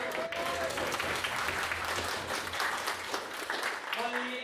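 Audience applause at a student debating society meeting, a dense steady wash of clapping from a room full of people, with voices mixed in under it.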